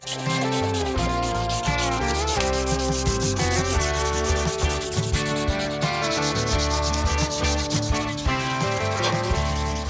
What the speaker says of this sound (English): more elbow grease and how much sandpaper I guess you got to work with